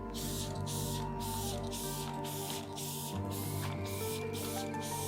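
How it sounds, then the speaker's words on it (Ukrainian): Koch-Chemie Finish Spray Exterior quick detailer is pumped onto a car in a rapid series of close, loud hissing bursts, with the spray trigger pulsing rhythmically and no voices. "Тому тут використаємо фініш спрей екстерір."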